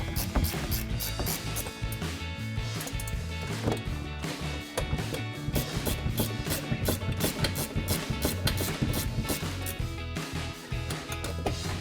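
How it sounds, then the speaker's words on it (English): A 16mm ratcheting wrench tightening the top strut mount bolts on a RAM 1500 during a 2.5-inch coil spacer lift install: continuous close, rapid ratchet clicking in repeated bursts. "So we grab our 16mm ratcheting wrench, tighten those down."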